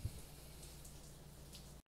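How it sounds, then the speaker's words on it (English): Steady rain falls outside in Los Angeles, California, a soft continuous patter with occasional louder drips, fairly faint and unbroken until it cuts off abruptly at the end. "Raining outside."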